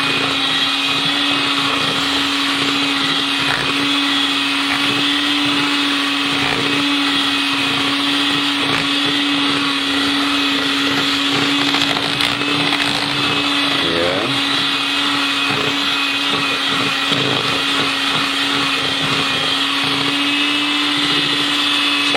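An electric mixer runs steadily while kneading pandan martabak manis dough, giving a continuous loud motor whir with a constant hum throughout and no talking.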